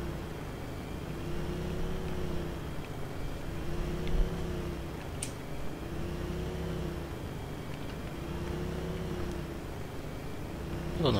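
A moped engine in ArmA 3 hums steadily at low speed, with a continuous droning tone that rises and falls slightly in gentle cycles over faint background.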